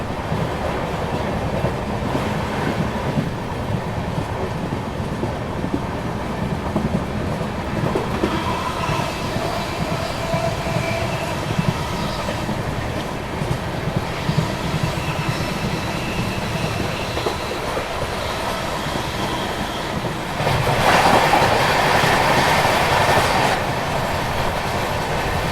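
The Duronto Express rolls past at Ranital railway station with a continuous rumbling clatter of wheels on the rails, loud and close, the rhythm of joints clacking throughout.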